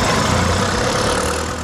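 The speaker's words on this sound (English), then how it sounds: "the invention of the automobile or car, which was powered by gasoline engines." A gasoline car engine runs steadily and loud, a dense continuous rumble with no voices, easing off slightly toward the end.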